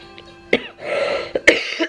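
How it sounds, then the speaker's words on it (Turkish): A person with flu-like symptoms coughs in several sharp bursts, close and fairly loud in a quiet room, with a throaty rasp between the coughs. "sonra tabii ki öksürük de başladı."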